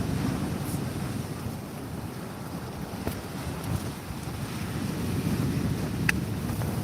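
Waves crash onto a beach shore at Southbourne in heavy conditions, a steady loud surf roar mixed with wind buffeting the microphone throughout, with no voices.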